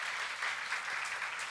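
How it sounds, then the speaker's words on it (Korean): A church congregation applauds during a sermon, giving a dense, even wash of many hands clapping at once that holds steady throughout at moderate distance. "박수 한번 주세요."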